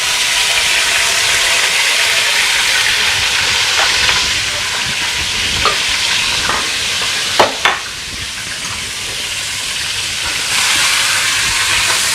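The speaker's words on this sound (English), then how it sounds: "We're just tossing it in the oil." Goat meat tossed in hot oil in a pan gives a steady, loud sizzling hiss, with a few sharp clacks of stirring in the middle and no talk.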